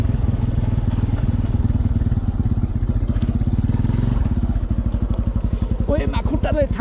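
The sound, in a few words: motorcycle riding uphill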